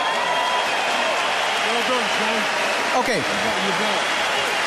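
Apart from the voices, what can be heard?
boxing arena crowd applause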